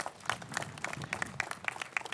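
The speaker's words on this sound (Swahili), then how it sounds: "Makofi vizuri, tafadhali." Audience applause at the launch of the WRC Safari Rally at Moi International Centre, Kasarani: a steady wash of many hands clapping from a crowd, fairly faint and diffuse, with no distinct voices over it.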